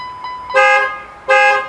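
Two short, loud Ford F-150 horn honks sound close by, triggered by a remote start system, separated by about a second, with faint electronic beeps before them.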